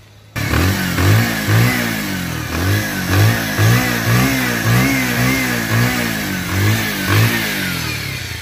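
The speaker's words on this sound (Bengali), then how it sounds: "এখন দেখো গাড়িটির সাউন্ড কোয়ালিটি।" A second-hand black Bajaj Pulsar 150cc motorcycle engine revs repeatedly, each throttle blip rising and falling in a steady rhythm over a continuous mid-pitched engine drone, loud and close with no talking.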